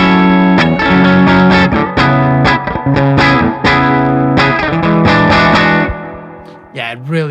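Electric guitar on the bridge pickup of a Charvel Pro Mod SoCal, played through a heavily driven amp: loud distorted chords and riffs struck in quick rhythmic bursts, then a few bent notes ringing out at the end.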